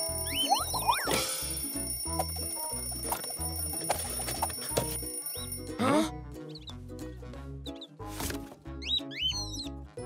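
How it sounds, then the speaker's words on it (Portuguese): Old alarm clock ringing in an animated children's cartoon: a loud, clattering ring that rolls on for several seconds, mixed with bouncy music and comic sound effects. "O meu antigo despertador."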